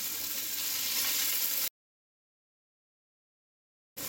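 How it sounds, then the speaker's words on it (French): Onions or shallots sizzle with celery in a hot pan, a loud, steady crackling hiss heard alone that cuts off abruptly into silence before returning briefly at the end. "On va faire cuire ces 3 oignons ou 6 échalotes françaises et une branche de céleri."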